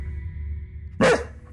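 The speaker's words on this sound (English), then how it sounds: "No barking." One sharp, loud dog bark breaks through a quiet background with a steady low hum.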